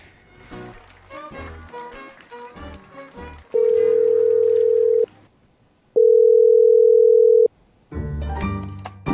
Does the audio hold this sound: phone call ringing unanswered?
yes